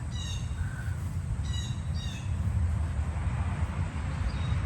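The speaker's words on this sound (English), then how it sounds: "I can't tell what type of birds they are." Birds call outside in a yard, with a few short chirps and squawks at the start and again near two seconds, above a steady outdoor rumble.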